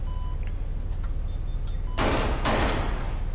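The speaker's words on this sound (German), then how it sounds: "Hörte sich an wie Schüsse." Two sharp bursts of video game gunfire crack out in quick succession over a steady low hum, loud and close, with no talking.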